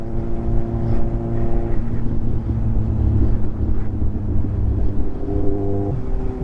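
Kawasaki Z800 motorcycle pulling hard in first gear, its engine giving a steady droning roar with rising tonal steps, accompanied by rumble and wind buffeting on the microphone; no talking.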